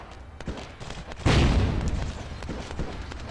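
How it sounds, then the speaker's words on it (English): A sudden muffled boom from a small explosion in the video game Vampire: The Masquerade – Bloodlines erupts after a quiet stretch, its low rumble lingering and slowly fading, with faint scattered clicks around it. "Wait for that little explosion which gets him to turn around"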